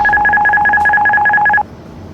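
An airBaltic A220 autopilot disconnect warning in the cockpit sounds as a rapid repeating two-tone electronic chime, a steady run of bright beeps that stops abruptly after about a second and a half, leaving quiet cabin hum.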